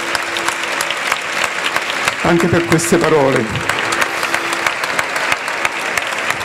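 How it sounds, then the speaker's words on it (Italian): Applause from an audience at a public event in the Marche about recovery after the earthquake, steady clapping throughout with someone speaking briefly over it partway through. "Facciamo un altro applauso"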